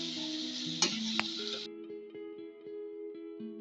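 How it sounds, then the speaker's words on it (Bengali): Ginger, onion, garlic and tomato paste for a home-style Bengali mutton curry is stirred and fried in a pot: a loud sizzle for the first second and a half with a couple of scrape knocks, then a quieter, steadier simmer with soft tonal ringing. "মশলাটা দিয়ে ভালো করে কষাতে হবে"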